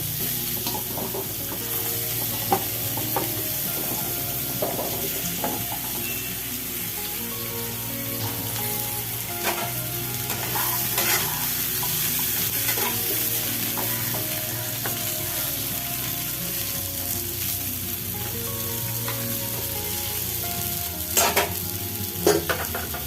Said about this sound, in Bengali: সেই তেলেতেই আমি আলু আর বেগুনগুলো হালকা ভেজে তুলে নেব।